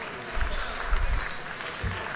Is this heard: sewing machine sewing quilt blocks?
no